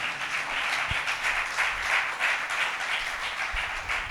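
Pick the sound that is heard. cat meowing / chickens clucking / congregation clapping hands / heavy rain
congregation clapping hands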